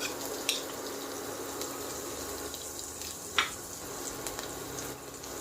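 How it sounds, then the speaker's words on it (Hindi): Garlic frying in a spoonful of mustard oil gives a soft, steady sizzle with a few faint clinks and stirring scrapes, quiet and continuous with no speech. "हमने 1 चम्मच सरसों का तेल लिया है और इसमें हम सबसे पहले ये लहसुन जो है लहसुन डाल देंगे।"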